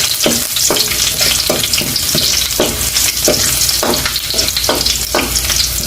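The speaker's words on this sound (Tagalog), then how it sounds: "ilagay na natin itong bawang. Gigisa na tayo" Chopped garlic sautéing in a hot pan with green chili, giving a loud, steady close-up sizzle broken by rhythmic scraping stir strokes roughly every half second, with no talking.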